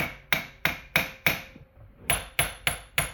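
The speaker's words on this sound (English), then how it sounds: "a common thing would be to just tap it around a little bit as you're" Light hammer taps on a 1940 Packard starter while the armature is turned by hand, eight sharp metallic knocks in a steady rhythm with a brief pause midway, close and distinct with no talk.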